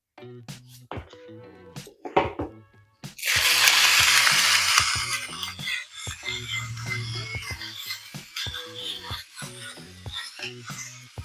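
Black pepper cracked in a pepper grinder on a coarse setting, heard as a run of close, dry ratcheting clicks in uneven bursts, with a brief louder rush partway through.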